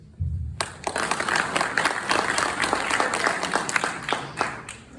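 Audience clapping at a public meeting on a community development debate breaks out suddenly after a brief pause, then continues as a dense, sustained round of many hands, fairly close and steady to the end.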